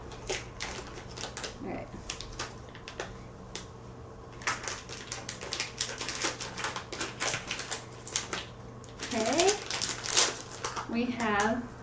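Crisp snipping and crinkling as scissors cut open a plastic toy blind bag, close up, with someone talking in between the cuts.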